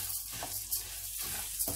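Green lentils (moong dal) being dry-roasted in a pan over gentle heat, a soft hiss with rhythmic scraping bursts from stirring, close and fairly quiet.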